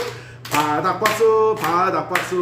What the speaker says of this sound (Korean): 자, 이번엔 바닥박수